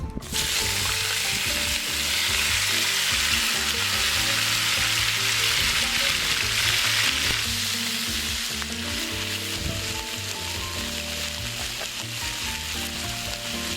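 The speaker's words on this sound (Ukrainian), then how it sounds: "Сьогодні будемо смажити на смальці." Meat sizzles loudly and continuously in hot lard in a cast-iron roaster, a steady crackling fry up close with occasional stirring and scraping.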